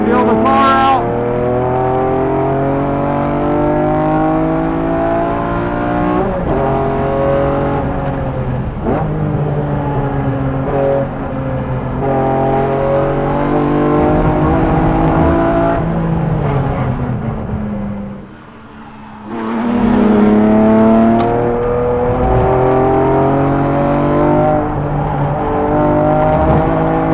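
BMW M car engine accelerating hard on a race track, a loud sustained in-car roar with rising rev sweeps and gear changes, a brief lift around the middle, and a voice talking over it.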